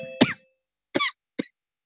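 Close, dry coughs from a person: one heavy cough followed after a gap by two shorter ones, with silence in between.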